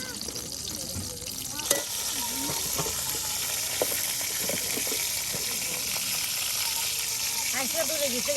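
Garlic fries in hot oil while being stirred in a pan outdoors, a steady loud sizzle with scraping and rattling of the utensil, and people talking over it.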